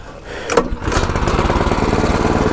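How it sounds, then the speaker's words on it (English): Champion 19-inch rear tine tiller engine on half choke catches after a brief pull and settles into a loud, steady, rapidly pulsing run close by. "it should start right up on the first crank"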